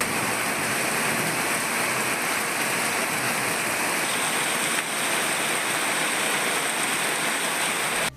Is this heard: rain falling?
yes